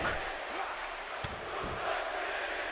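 A steady roar from an arena crowd in the WWE 2K18 video game, a split SummerSlam audience in Brooklyn, holding a dense, even wash of noise for about three seconds with a few faint shouts rising out of it.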